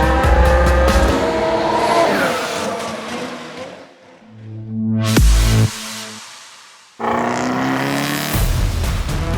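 A Honda Civic Type R TCR race car roars past at full throttle with engine note and tire squeal, drops away briefly, then another loud engine blast sweeps by and the racing noise resumes close and strong.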